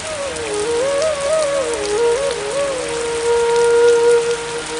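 Steady rain pours on a village path as a laborer walks home, a continuous close hiss of falling drops running throughout beneath a wavering melodic music line.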